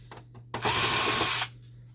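A power screwdriver whirs once for just under a second, fairly close, as a screw is backed out of an Epson Stylus Photo R280 printer, with a low steady hum underneath.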